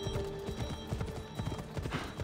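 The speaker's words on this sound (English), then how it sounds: "I need to take this horse to either Adonis or to the stable boy." Horse hooves clip-clop steadily in Assassin's Creed Odyssey, a fast regular beat of hoof strikes that carries on alone, close and clear, with no talking.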